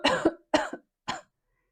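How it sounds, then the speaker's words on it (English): Three separate coughs in a quiet room, each short and forceful with a silent gap between, the last a little softer, coming after slow deep breathing exercises in a qigong session. "and cough."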